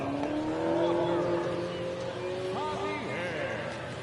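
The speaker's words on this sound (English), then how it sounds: "people in their loud cars just going by" Loud cars passing on Highway 90 beside a minor-league ballpark, engines and tires sweeping past in overlapping waves, with a voice talking over the traffic throughout.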